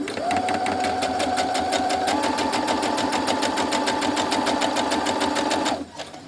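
A sewing machine runs steadily stitching a quilt block, a loud close mechanical whirr with a fast even needle rhythm that shifts slightly in pitch midway and stops abruptly near the end.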